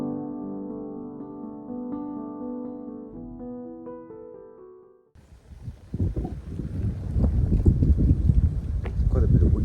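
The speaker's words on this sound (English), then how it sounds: "Quite a bit of wind, isn't it?" Wind gusts buffet the microphone outdoors in Noto, Sicily, on a winter day, rising into a rough, low rumble after a quiet stretch of music in the first half.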